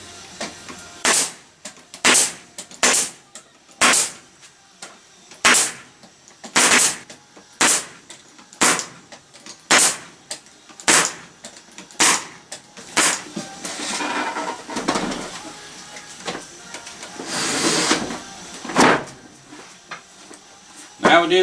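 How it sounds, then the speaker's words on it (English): A staple gun fires into a wooden beehive frame held in a jig, sharp snapping clacks repeating about every second, close and loud, with a few rustling handling noises between shots. "I staple a little bit off to the side"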